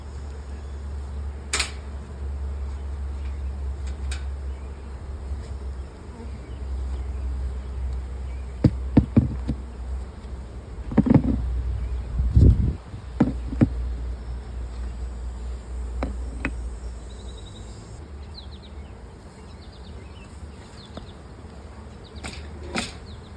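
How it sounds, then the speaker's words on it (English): Honey bees from a hive being smoked and shaken apart drone in a steady low buzz throughout, with scattered sharper knocks and bumps of hive parts near the middle. "I'm going to disturb the bees quite a bit"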